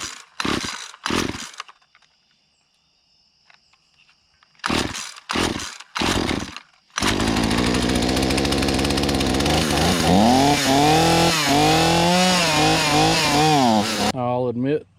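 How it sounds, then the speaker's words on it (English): A two-stroke chainsaw fitted with a new Hipa carburetor, air filter and plug is pulled several times, then fires and runs loudly close by, its engine revving up and down for several seconds before dropping back. "With that brand new Hipa carburetor, air filter and plug."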